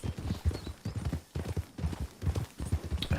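Horse hooves clip-clop in a steady trotting rhythm as a rider heads downhill in a Western-themed video game, the hoofbeats close and fairly loud throughout.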